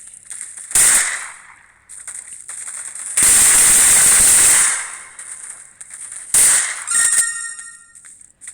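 Loud bursts of firearm fire in a combat arena video game crack out in several separate volleys, the longest a sustained spray in the middle, with short sharp shots around it.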